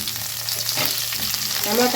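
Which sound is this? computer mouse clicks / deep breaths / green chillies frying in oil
green chillies frying in oil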